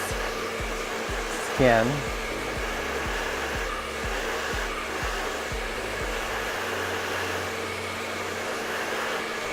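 Hair dryer with a diffuser blowing in short gentle pulses, a steady close whoosh with rhythmic on-off cycling; a voice speaks briefly.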